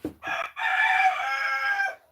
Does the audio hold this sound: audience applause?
no